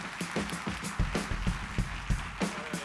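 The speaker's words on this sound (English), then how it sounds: "Give him a good round of applause." A keynote audience applauds a speaker walking on stage at a tech conference, giving a short burst of scattered, uneven hand claps, fairly faint and sparse across the room.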